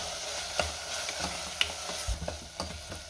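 A spice mixture with chicken masala powder, red chili powder and chopped coriander is stirred in a sizzling pan, a spoon scraping and knocking at irregular moments over a steady frying hiss.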